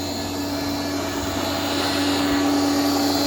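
A rice milling machine runs loudly and close by, giving a steady mechanical drone with a strong hum that holds without a break, and no talk can be heard over it.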